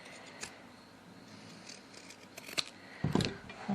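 Scissors snip into a fabric seam allowance, cutting notches on a sewn crossbody bag seam: a few quiet, crisp clicks scattered over soft room noise, ending with some closer handling sounds.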